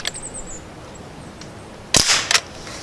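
An air rifle fires an RWS pellet outdoors. A sharp, loud crack is followed closely by a second snap, after a stretch of faint background hiss with no speech.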